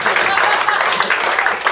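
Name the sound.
audience applause at a comedy show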